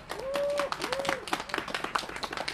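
Applause from an audience at a public meeting against 5G, the clapping sparse and thinning out while a voice speaks over it.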